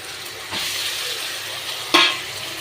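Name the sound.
boiled potatoes added to a pan and stirred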